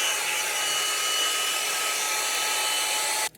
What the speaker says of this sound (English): I'm going to blow dry on cold